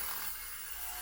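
A Hercules 11 amp angle grinder cuts with a dense, steady, high-pitched grinding hiss that holds at a constant level throughout the short clip.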